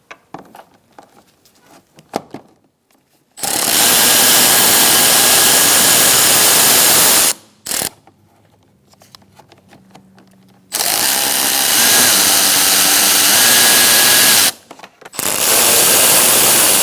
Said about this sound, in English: Using an 8mm socket, we're going to remove 4 bolts holding our airbox cover on.